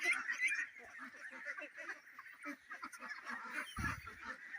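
Ducks on a duck farm quack and honk in a busy overlapping chorus, close and fairly quiet, with a brief low thump near the end.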